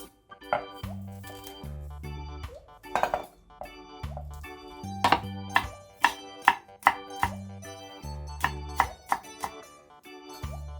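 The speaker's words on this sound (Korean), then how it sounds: "실파를 송송 썰어주겠습니다." Scallions being finely sliced with a knife on a cutting board, a series of crisp close taps in quick bursts, with sparse plucked music playing underneath.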